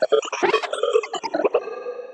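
A psytrance synth sound run through Valhalla Delay with frequency shift, giving choppy, warbling bursts whose pitch jumps and glides, closely heard and ending in a sustained tone.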